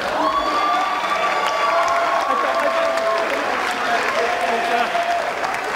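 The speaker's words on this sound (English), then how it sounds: "Please show them how much their love and support has meant to you over the years with a loud applause." A crowd at a senior athletic awards event applauds the athletes' parents, with dense clapping mixed with cheers, whoops and whistle-like shouts, loud and continuous.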